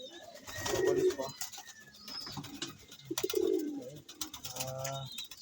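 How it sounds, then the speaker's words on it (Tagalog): Pet pigeons coo in soft, repeated throaty bursts close by, with light rustling and a few faint chirps between calls. "Yan ang ating ibon oh."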